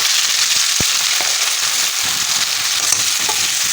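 Spices, including crushed red chili, frying in a pan for smoky brinjal bharta: a loud, continuous close sizzle with occasional pops and stirring scrapes, and no voices.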